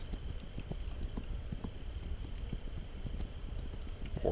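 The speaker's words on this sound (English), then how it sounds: "Horse is here." Horse hooves clip-clop at a steady walking pace on a hard surface in the video game This Land Is My Land, close by, with a faint constant hum behind them.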